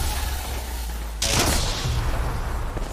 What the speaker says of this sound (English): Yeah, no, he's Krabering us.